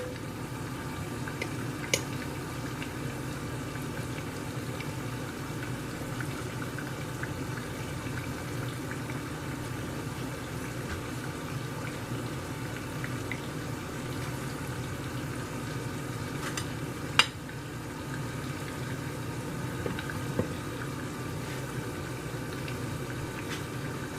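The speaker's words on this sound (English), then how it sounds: "I'm going to place the bread in the pan." Buttered bread fries in a pan for a diner patty melt, a steady, even sizzle that runs throughout at moderate volume, broken only by a couple of faint clicks and no speech.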